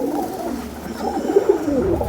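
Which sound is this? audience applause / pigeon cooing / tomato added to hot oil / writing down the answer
pigeon cooing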